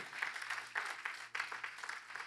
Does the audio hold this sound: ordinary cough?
no